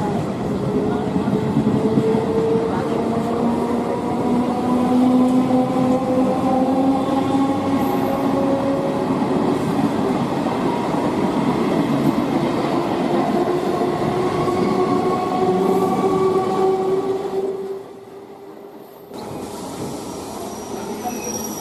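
A train runs on rails at night, a loud, continuous rumble with wheel squeal tones and clatter, easing off and dropping to a quieter roll near the end.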